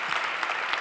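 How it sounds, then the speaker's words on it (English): Brief burst of audience applause at a conference, a dense, steady clapping wash heard only for a moment. "Everybody, can you give Joe a round of applause?"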